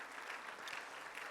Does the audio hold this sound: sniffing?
no